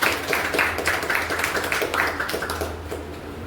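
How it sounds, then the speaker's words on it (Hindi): Audience clapping in a seminar room, a dense patter of many hands at steady loudness that thins slightly toward the end, with no talk over it. "थोड़ा जोरदार ताली बजाया"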